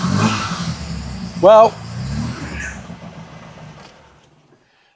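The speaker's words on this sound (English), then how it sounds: "It's clearly started the car." An MGB classic car engine cranks and catches, giving a short loud rev before settling and fading out, with someone talking over the start.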